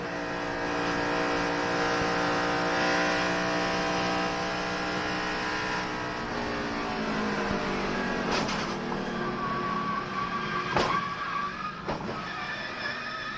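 Onboard audio from a NASCAR stock car in the 2006 3M Performance 400 during a crash: a loud steady engine drone that shifts pitch and sags, then sharp impacts and scraping bursts near the end, with no talk.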